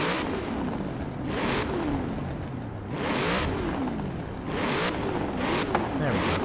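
A Cadillac CTS-V engine in Forza Horizon 4 roars loud and steady, pitch rising and falling through repeated revs and gear changes, with a voice talking over it.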